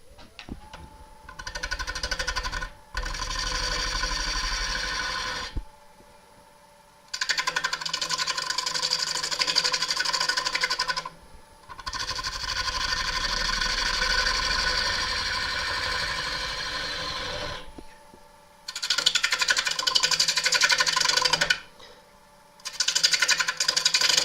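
Wood lathe spinning a gnarly crotch wood blank, a steady broadband whir with a low hum that runs in long stretches, stopping and restarting several times across the span, fairly loud and close with no talk.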